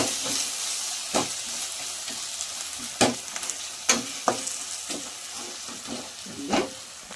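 Tomato masala for a roadside-style sherva fries in a pan, giving a steady, close crackling sizzle broken by several sharp spoon scrapes and taps as it is stirred.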